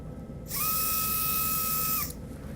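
A surgical drill bores eccentrically into bone for a fracture plate screw on a fifth metatarsal, giving a steady, high-pitched whine that starts abruptly, holds for about a second and a half, then cuts off.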